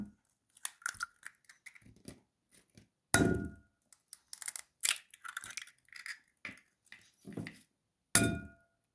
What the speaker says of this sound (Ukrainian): В миску розбиваємо три яйця.